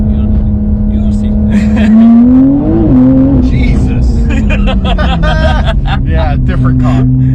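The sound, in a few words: Porsche 992 Carrera 4S with modified exhaust accelerating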